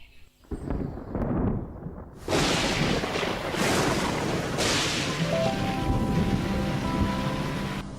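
Cartoon rain and thunder: a steady heavy downpour hiss with a sharp thunderclap crack that swells into a rolling rumble, loud and continuous for several seconds with no talking.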